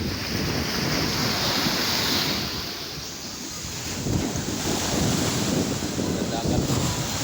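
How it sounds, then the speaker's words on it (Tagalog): Sea surf rolls in steadily at the shore, with gusts of wind buffeting the microphone in a constant broadband roar that swells and eases. "Dagat."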